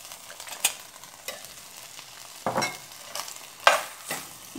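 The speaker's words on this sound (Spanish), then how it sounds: "Que se nos cosa la cebolla. Y le voy a agregar también el jitomate ahí para que se cosan juntos." Chopped onion and tomato frying together in a pan for quesadilla picadillo, a steady close sizzle broken by several sharp stirring scrapes, with no talk.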